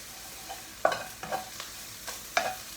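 A small ladle stirs and separates onions frying in oil in a pan. Several distinct scraping strokes land over a soft, continuous sizzle, and they sound close.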